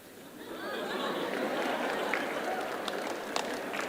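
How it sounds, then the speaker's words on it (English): Teachers and students applauding at a university conversation event, a dense wash of clapping and crowd chatter rising after the first half second and holding steady, a few sharper claps near the end. "the teachers are clapping more than the students"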